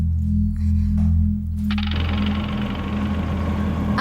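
An auto-rickshaw engine runs with a rough, throbbing knock, starting as a low idle-like rumble and then rising into a louder, busier clatter as the vehicle gets going.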